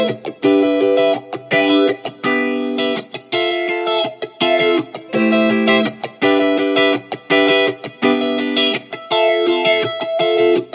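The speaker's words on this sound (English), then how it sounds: "And of course, we have to mention the Hawk phaser." Lead guitar played through a Safari Pedals Hawk phaser plugin, loud, distorted chord stabs and sustained notes in a choppy rhythm, with a sweeping, chorus-like swirl and a touch of reverb, alone with no voices.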